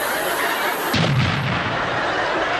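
A bomb explosion sound effect in a comedy routine: a loud, sustained roaring blast that swells in after a brief lead-in and keeps rumbling to the end, with no voices over it.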